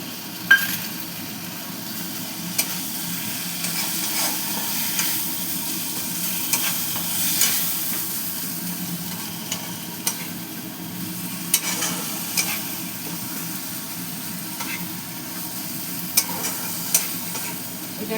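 Spice masala with red chilli powder sautéed and stirred in a pan, a steady low sizzle with frequent sharp scraping clicks of the spoon.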